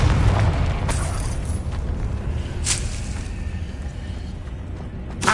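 A deep rumbling magical explosion from the Confringo spell in Hogwarts Legacy, a sustained low boom washing out over several seconds with a few bright crackling bursts, no voices over it.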